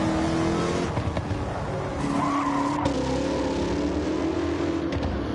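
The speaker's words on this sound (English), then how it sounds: "It sounds like the tires are melting off of the car." Race car tires in a racing video game squeal and skid continuously over a loud, steady engine drone, several cars howling together close by without a break.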